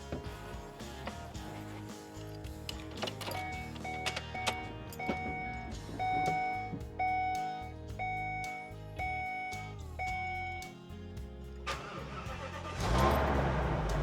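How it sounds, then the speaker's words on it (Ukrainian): A car engine with a weak battery cranks and catches, settling into a steady idle with a rising rev near the end. "Я спробую запустити двигун."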